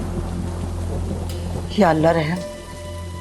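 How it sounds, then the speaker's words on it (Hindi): Heavy rain pours steadily outside during a drama scene, a constant close hiss under a brief spoken line. "बाहर तो बहुत तेज बारिश हो रही है। जी, और बिजली भी बहुत कड़क रही है।"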